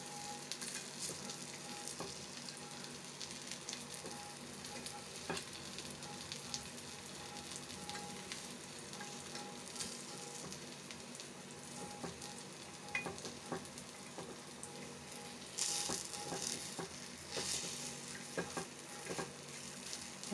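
Wheat flour kara paniyaram batter sizzles steadily in a paniyaram pan, a continuous crackling fry with scattered sharper pops and occasional light scraping, even and close throughout.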